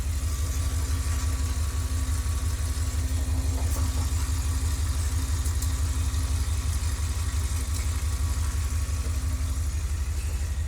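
A car engine idles steadily while warming up, the vehicle running low on transmission fluid after a drive from Albuquerque; a continuous low rumble holds even and unbroken throughout, with no voices.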